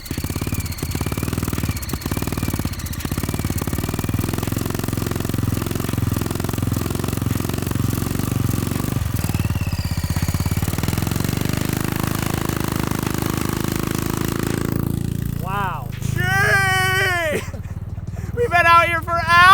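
A Little Tikes Crazy Coupe swapped with a 390cc engine drives on sand dunes, its small engine chugging and buzzing steadily under wind noise before fading, followed by excited shouting and voices near the end.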